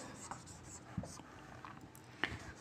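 Chalk or a pen scratches across a board in a classroom, a few short faint strokes with soft taps at separate moments, quiet and close with no talk.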